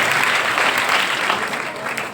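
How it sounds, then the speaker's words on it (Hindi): A speech audience bursts into sustained applause at an Independence Day religious discourse in Ellora, the clapping dense and loud throughout with no talk over it. "ताली तो बजाओ एक बार"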